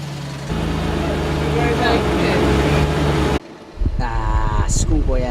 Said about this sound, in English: The engine and transmission are noisy